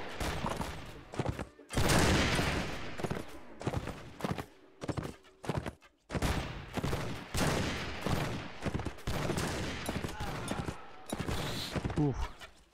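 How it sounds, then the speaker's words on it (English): Gunfire during a shooting battle in the Mount & Blade Warband game with the Gekokujo mod, with bursts of shots and clattering loud throughout, over a busy background of battle noise and some voices. "little shooting battle."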